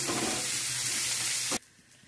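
Potato tikki mixture with chilli and turmeric powder frying in a pan, a dense close sizzle that cuts off abruptly after about a second and a half, leaving quiet room tone.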